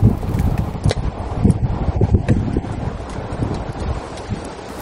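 Strong wind buffets the microphone in rough, uneven gusts, with a low rumbling roar and no talking.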